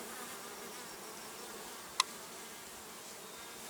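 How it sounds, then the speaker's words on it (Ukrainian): Bees buzz steadily in a soft, continuous hum, with one brief sharp click partway through. "Вечір у бджіл праця"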